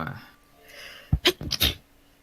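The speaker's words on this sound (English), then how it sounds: "Cute little sneeze." A short, sharp sneeze in a couple of quick bursts up close, preceded by faint breathy sounds in a quiet room.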